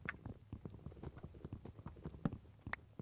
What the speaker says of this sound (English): We got a horse jumping constantly